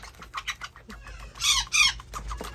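Baby parrot being hand-fed in a bird nursery, giving a quick run of eager, raspy begging squawks and chirps, near and fairly soft.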